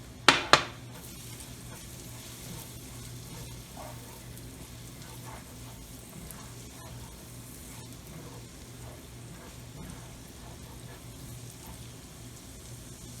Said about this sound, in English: And then now let's add on the minced garlic, and you just want your minced garlic like slightly brown.